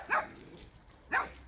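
Puppies guarding a yard from an alpaca let out two sharp, high yaps about a second apart, fairly faint and alone with no talk.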